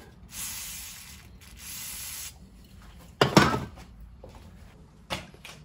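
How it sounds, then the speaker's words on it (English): WD-40 aerosol sprays onto a stuck rear brake stud on a Locost 7 kit car in two short close hissing bursts, followed by a couple of sharp knocks and clatters of handling. "I'll give it another WD-40 bath and leave it for a bit"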